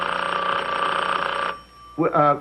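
Telephone bell ringing in a sitcom scene, a loud continuous trill for about a second and a half, then cut off as a voice speaks.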